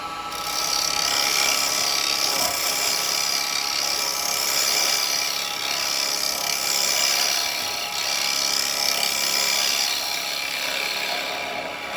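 A chisel hollows spinning maple on a wood lathe for a tea light holder, a steady loud scraping hiss with the motor's hum beneath, continuous and close with no talk.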